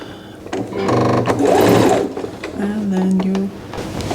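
A sewing machine runs a straight stitch along a dress hem in short, rapid mechanical bursts of whirring, close by, with someone speaking over part of it.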